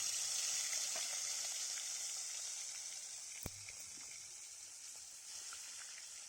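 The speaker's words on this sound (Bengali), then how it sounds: "আমাদের তেলটাও বেশ গরম হয়ে এসেছে মা এখন মাছগুলোকে ভেজে নেবে" Fish frying in hot oil, a steady bright sizzle that starts loud and eases slightly, with one sharp pop partway through and no speech.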